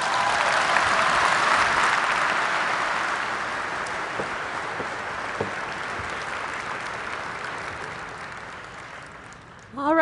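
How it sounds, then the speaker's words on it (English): Audience applause after a talk at the Autodesk University 2017 conference starts loud and broad, then slowly thins and fades, with scattered claps continuing until a voice begins speaking at the very end. "I think Tim and Kelsey deserve another round of applause."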